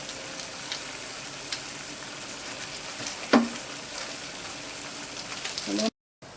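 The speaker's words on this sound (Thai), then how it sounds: "พอน้ำเดือดพล่านอย่างนี้นะคะ" Steady broadband bubbling and hiss of water at a rolling boil for cooking chicken breast meatballs, continuous throughout, with a brief clink near the middle and a sudden cutoff at the end.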